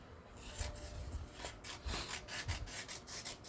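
Printed sticker paper is trimmed with repeated rough rubbing, sawing-like cutting strokes in a steady rhythm, close and fairly quiet, with no voices.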